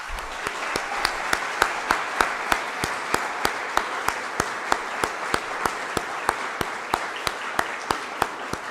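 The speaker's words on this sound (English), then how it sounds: "Let's give everybody one more big round of applause." Sustained audience applause at an academic awards ceremony, even steady clapping from a crowd with a few sharper individual claps standing out throughout.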